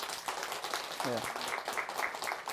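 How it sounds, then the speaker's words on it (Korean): An audience claps steadily with broadband applause during a Buddhist monk's lecture, while a voice speaks briefly over it in the middle. "서해출 반장님 박수 한번 드리세요"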